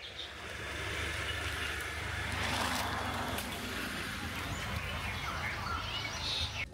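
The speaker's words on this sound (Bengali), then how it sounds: "পুরো শালবন, 4-5টা শাল, শুধু পাখির আওয়াজ আর দু একটা গাড়ি যাচ্ছে" Birds call faintly in a sal forest over a steady outdoor rumble, with a continuous low hum like distant traffic throughout, in Murguma, Purulia.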